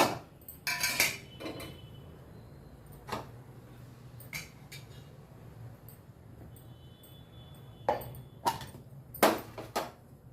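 Stirring food in an iron pan for garlic methi curry, the spoon giving sporadic clinks and scrapes against the metal with a few sharper knocks near the end, over a low background hum.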